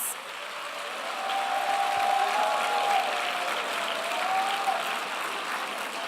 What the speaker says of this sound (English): She deserves a better round of applause.